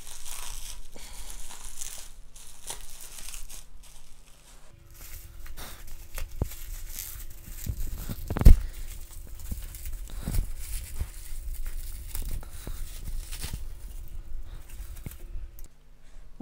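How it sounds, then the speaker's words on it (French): Bubble wrap packaging is pulled off a parcel of houseplants, with repeated crinkling and rustling of plastic in irregular bursts, close and fairly loud, plus one sharp crackle partway through. "Enlever le papier bulle."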